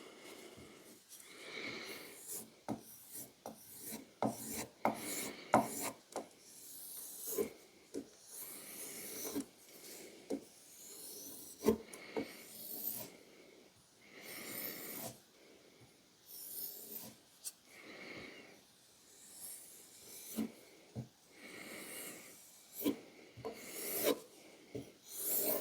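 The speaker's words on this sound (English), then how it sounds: "this is just a homemade strop" A Ka-Bar Becker BK-16 knife blade is dragged repeatedly across a homemade leather strop of wood with glued leather, giving close, uneven rasping strokes in irregular bursts with short pauses between them.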